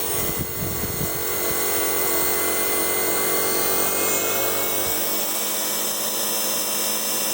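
A home-built alternator converted into a motor spins at speed, giving a steady, loud whine with high tonal lines and a constant mechanical drone that holds unchanged from start to finish with no talk.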